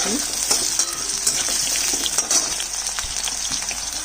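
Potato pieces fry in oil with panch phoron, dried chillies and bay leaf, giving a steady, close, loud sizzle with occasional stirring scrapes and clinks and no talking.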